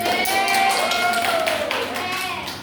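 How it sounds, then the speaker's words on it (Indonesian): Students clapping in a classroom during a mathematics lesson, a steady patter of hands under overlapping young voices chattering and calling out, sustained at moderate loudness throughout. "Ya benar, tepuk tangan."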